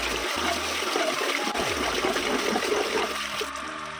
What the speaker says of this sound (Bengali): চাল আর ডালটা ভালো করে ধুয়ে নেবো।